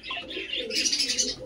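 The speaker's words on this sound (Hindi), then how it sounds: "ये देखिए आप लोग कबूतर" Pigeons of an adult breeding pair in a loft, soft cooing and chirping calls repeating close by with faint wing movement, no talk.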